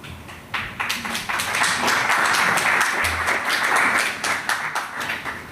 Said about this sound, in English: I'll accept the applause on the behalf of really cool kids.